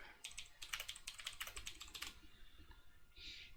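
Quick, light clicking of keys on a computer keyboard, a brief burst of fairly quiet close taps in uneven rhythm that stops, then one small click-like sound before the end.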